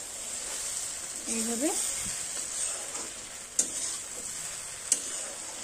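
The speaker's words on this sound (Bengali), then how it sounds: "সকল ব্রেডগুলোয় মশলাটা ভালো করে মেখে নিচ্ছি" Bread pieces are tossed with spices in a sizzling pan for bread upma, a soft steady frying hiss with scraping stirs and two sharp utensil clicks near the end. A voice speaks briefly.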